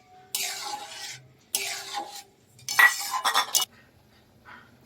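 A spoon stirring ground spice paste into half-boiled mung dal in a metal pot, heard as three bursts of scraping and clinking against the pot with short pauses between them. Nobody speaks.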